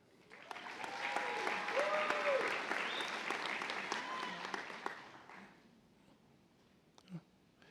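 Warm applause from a convocation audience rises for a master's graduate, with cheering and whoops riding over the clapping, then dies away around the five-second mark, leaving a brief stray sound near the end.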